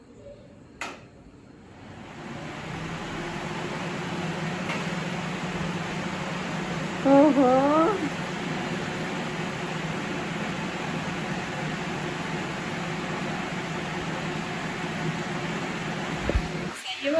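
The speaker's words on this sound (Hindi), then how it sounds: "देखते हैं कूलर चालू करके कब स्टार्ट होता है" An air cooler that had sat unused for about a year is switched on and runs as a steady broadband whir with a low hum, continuing throughout; a brief exclamation and a few tonal chirps rise above it.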